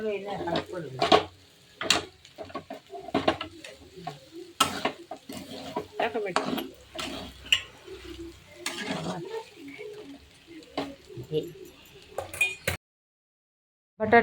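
Sago pearls being sautéed and stirred in a pan, giving a run of irregular scraping and clattering stir strokes over a soft sizzle, close and moderately loud, with a brief silence near the end.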